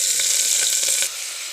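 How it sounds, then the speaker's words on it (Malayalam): Chopped onion hits hot oil already seasoned with mustard seeds and fenugreek in a pressure cooker on a stove, giving a loud, steady sizzle with crackling pops that drops to a quieter hiss near the end. "സബോള ഇടുകയാണ്."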